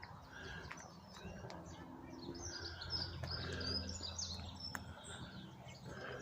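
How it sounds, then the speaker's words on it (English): Birds chirp and sing in early spring woods near feeders, several small calls and tweets scattered over a quiet outdoor background, fairly faint and distant. "Birds everywhere."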